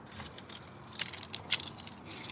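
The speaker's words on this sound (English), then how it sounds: "Where are my keys at?" Car keys jangle in quick, bright metallic bursts, shaken and rattled close by for about two seconds, with no voices present.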